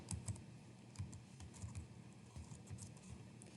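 Quiet clatter of fingers typing on a computer keyboard, an irregular patter of soft key clicks running throughout with no voices.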